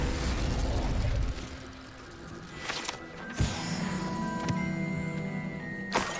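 In Hogwarts Legacy, the Incendio fire spell is cast with a sharp whooshing burst, followed by a couple of further fiery pops over a low magical hum.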